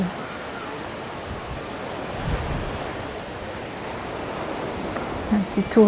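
Sea waves along the shore at Fouras on the French coast, a continuous broad wash of surf mixed with wind rumble on the microphone, with a few louder bumps near the end.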